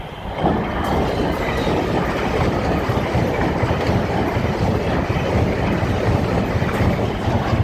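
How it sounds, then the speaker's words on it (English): An LNER Azuma train arrives at Doncaster station, a loud, steady rolling roar of wheels on rails close by with rhythmic clatter and no voices for several seconds. "stand behind the yellow line until the train comes to a complete stop."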